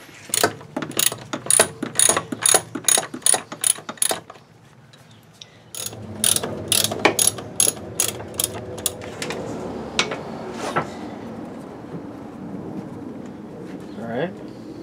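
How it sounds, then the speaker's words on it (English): A ratchet clicks in rapid rhythmic bursts while removing the bolts that hold a car's master cylinder to the booster or firewall, pausing briefly before a second run of clicks, followed by quieter handling noises. "next step is to remove the bolts that secure the master cylinder to the booster or the master cylinder to the firewall."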